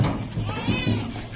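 Goats at a goat farm being loaded onto a cargo vehicle for transport, with bleats rising through loud background chatter of men counting and children's voices nearby.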